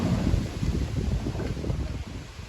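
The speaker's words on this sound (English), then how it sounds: "That wind gusts crazy sometimes" Strong wind buffets the microphone in rough, low gusts, a continuous blustery roar with no voices.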